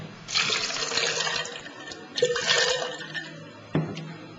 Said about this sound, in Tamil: போட்டு கொஞ்சம் தண்ணி ஆட் பண்ணுவோம்.